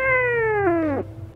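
A cartoon cat in the Avatar World game gives one long, drawn-out meow that falls in pitch and ends in a short downward bend, heard clearly and alone over a faint background hum.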